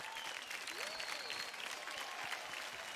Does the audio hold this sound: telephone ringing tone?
no